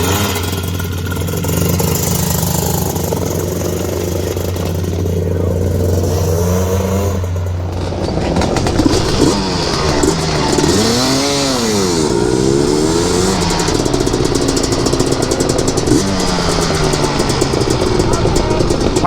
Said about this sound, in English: So we just rejetted this thing. This is Andrew. He's going to take it out for a rip, see how it feels.